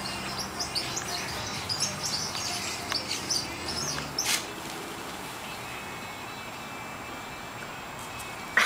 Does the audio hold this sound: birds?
yes